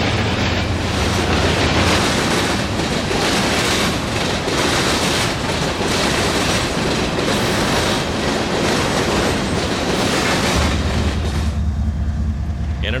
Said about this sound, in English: 6 minutes later comes an extra, X809 phosphate empty hoppers to Mulberry, Florida, and with just one locomotive.